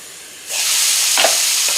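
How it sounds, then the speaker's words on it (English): Food sautéing under a lid in a pan for homemade Italian pizza starts with a quiet moment, then breaks into a loud, steady hiss and sizzle that holds to the end. "So when you leave the lid on it like this is how you want to saute stuff."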